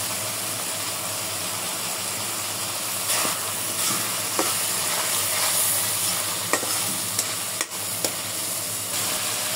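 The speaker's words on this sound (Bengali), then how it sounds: "মশলার সাথে শুটকিগুলো কষায় নেব।" Dried ribbonfish and dried shrimp sauté with spices in a pan, giving a steady close sizzle and hiss broken by a few sharp stirring scrapes and clicks, with no talking.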